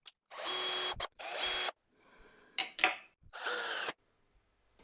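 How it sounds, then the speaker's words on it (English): Power drill boring a pilot hole for screws in knotty wood, several loud whirring bursts of a second or so each separated by short pauses and faint handling clicks. "I'm just going to drill a pilot hole for the screws."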